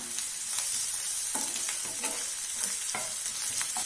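Hot oil sizzles steadily in a pan of sautéing onions and ginger while a spoon scrapes and stirs at irregular intervals, close up with no voices.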